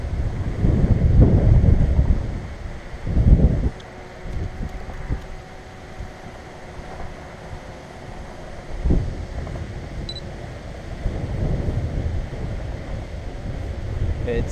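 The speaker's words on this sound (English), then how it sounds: "The gust is coming up." Gusting wind buffets the microphone during a DJI Mavic 2 Pro drone flight, with loud low rumbling bursts near the start, around three and a half seconds and again late on, and steadier wind noise between.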